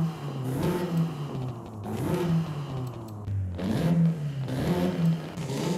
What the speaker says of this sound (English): let's go ahead and listen to all of the exhausts